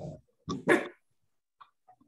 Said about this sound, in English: You hear the dog bark?